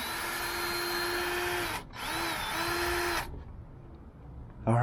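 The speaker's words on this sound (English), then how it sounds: "and I'm just going to drill." A power drill drives a drywall screw into the body of a Smart car. The motor whines loudly for almost two seconds, stops briefly, spins again, then cuts off into quiet with a faint knock at the end.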